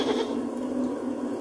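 A goat bleats in the video game Blanc, a soft, wavering cry over a steady low musical or ambient bed, fairly faint and continuous.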